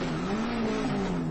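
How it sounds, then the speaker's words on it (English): A Ford Focus rally car spins its tires, producing a continuous loud, high tire squeal with a steady engine drone underneath, close and sustained across the short burst. "Just lighting up the tires."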